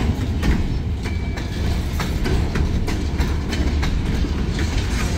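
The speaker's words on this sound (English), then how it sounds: "That was quite the train." A loud freight train rolls past close by, a continuous rumbling roar with rhythmic clickety-clack of wheels over rail joints, no voices.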